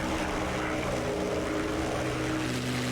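Steady, loud propeller and engine drone of a Messerschmitt Bf 109 climbing just after takeoff in the DCS flight simulator, a continuous rumble with no breaks and no talk.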